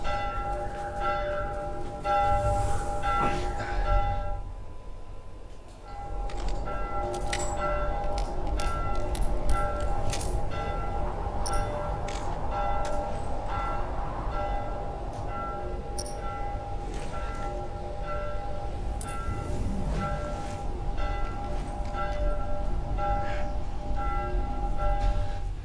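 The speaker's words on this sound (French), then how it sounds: "il y a les cloches là qui sonnent" Church bells ring continuously in a steady peal with sustained tones, fairly loud and carrying over a constant background, with no talk over them.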